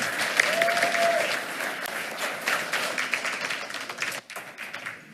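At a school board meeting, people give another round of applause for an honoree, a steady, fairly loud clapping that thins toward the end.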